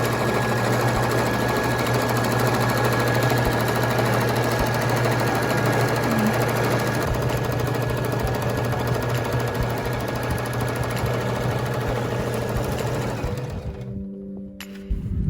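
A home sewing machine runs a long continuous zigzag stitch along a dress seam to keep the fabric edge from fraying, a loud steady mechanical whir that stops abruptly near the end.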